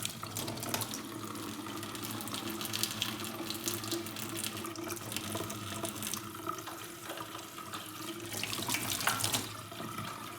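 Hot water gushes steadily from a tap into a sink in an arctic house left abandoned for 25 years, a continuous close splashing flow with no talk.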